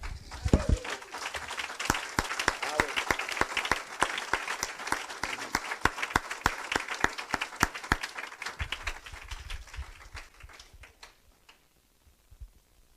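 A church congregation in worship claps together, many hands patting in a steady quick rhythm that fills the room for several seconds before thinning out to scattered claps and quiet.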